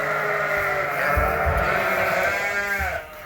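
Sheep bleating close by, several overlapping wavering calls in a barn holding about 225 sheep, with soft low thumps and shuffling underneath.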